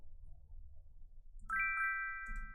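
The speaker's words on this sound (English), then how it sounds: "Then I also have this bell as well." A short bright bell-like synth chime made in FL Studio rings out twice over a low quiet rumble, its clear tones sustaining briefly.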